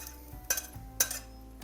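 Roasted broad beans being scooped from a pan onto a plate for a Makar Sankranti mixed-vegetable dish, heard as two or three quick, faint metallic scrapes and clinks of a spoon against the cookware.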